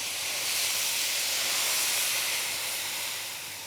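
Shaoxing rice wine hits browning beef in a hot pan, a loud, close, steady hissing sizzle that swells and then slowly eases, with no talking.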